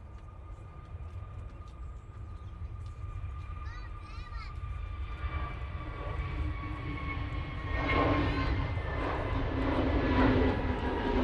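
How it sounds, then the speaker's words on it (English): A Jet2 Airbus A321neo takes off at Manchester Airport, its steady jet roar building gradually and swelling louder toward the end, heard from a distance with people chatting underneath. "now on the roll we have the Jet2 A321neo going off to Gran Canaria"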